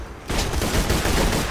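Rapid gunfire in the video game Borderlands 2, a loud burst of fast repeated shots starting suddenly and continuing densely without pause.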